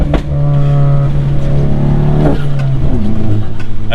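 Turbocharged VW MK7 Golf GTI with an EQT Stage 2 tune revving, a loud steady engine drone with a rising and falling pitch, heard close with no talk.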